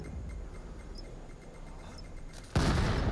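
A grenade goes off in the VR shooter VAIL during a competitive match. It lands as one sudden loud blast near the end, after quiet ambient game sound with faint ticks.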